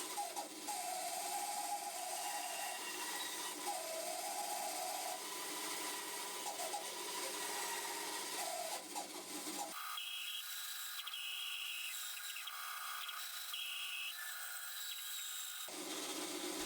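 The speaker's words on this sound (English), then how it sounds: "this is the first time using a bandsaw." A bandsaw cuts wood shapes for a reinforced-miter picture frame, giving a steady, continuous whirring drone that shifts in tone partway through as the blade works the piece.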